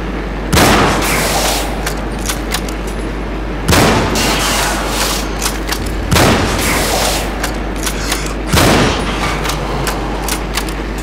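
Four heavy gunshots ring out in the first-person video game Cryostasis, evenly spaced about two and a half seconds apart, each a loud sharp crack with a booming tail over a steady low background hum.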